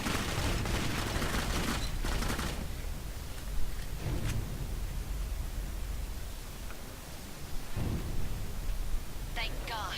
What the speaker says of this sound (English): I really like the shotgun on this thing. It seems to be working pretty well.